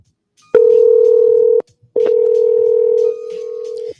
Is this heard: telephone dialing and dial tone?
yes